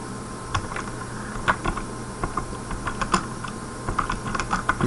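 Keys tapped on a computer keyboard while writing C code, light irregular clicks in short bursts over a quiet room hum, no voices.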